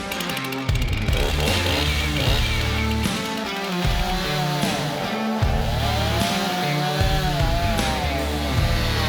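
A chainsaw cuts into an old, roughly 200-year-old elm tree stump, loud and close. The engine whines continuously and rises and falls in pitch as the blade bites into the wood and eases off.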